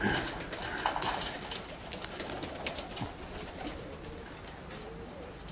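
Pigeons coo softly at a loft belonging to a pigeon fancier, a steady low murmur of birds running throughout with faint background noise and no clear talk.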